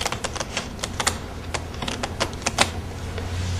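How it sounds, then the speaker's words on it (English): Quick crisp riffling and snapping of playing cards being shuffled by hand, a series of sharp clicks in bursts, close by. "I'm going to shuffle the cards like this"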